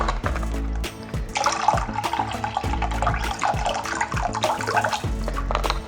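Apple juice pours into a container for homemade Christmas ice lollies, a close gurgling liquid stream with bubbly glugs that runs for several seconds.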